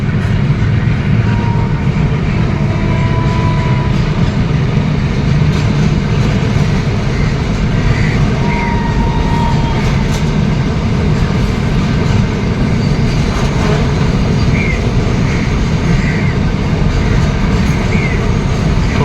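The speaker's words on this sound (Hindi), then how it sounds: "लगभग ये मालगाड़ी पूरी क्रॉस हो चुकी है" A freight train hauled by a powerful locomotive rolls past at close range near Sewa Nagar railway station in Delhi, a loud continuous rumble of wagons and wheels with faint squeals.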